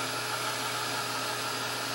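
A hair dryer runs at a steady, close, loud whoosh, blowing to dry acrylic paint, with no voices.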